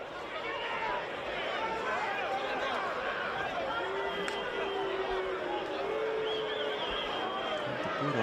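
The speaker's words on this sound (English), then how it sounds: "The noise of the crowd is swelling." Football crowd noise at a Preston Lions v Avondale Australian Championship match, a steady dense hubbub of many voices swelling during a stoppage, with a commentator talking over it throughout.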